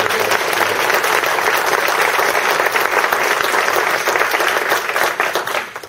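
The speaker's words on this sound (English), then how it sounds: "So a round of applause for" An audience gives loud, sustained applause at a morning event during Homelessness Action Week. Dense clapping fills the room without a break, then fades near the end.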